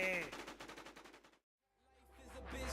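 Rapid machine gun or minigun fire in a Warz Amazonz shooter video game: a fast, evenly pulsed string of shots cuts off into brief silence, then a low roar swells back up with more sharp reports.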